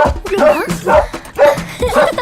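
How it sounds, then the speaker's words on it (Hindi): A dog barks in a rapid series of short, close yaps, roughly four bursts, with a person speaking in between. "अरे भौंकते तो सभी कुत्ते"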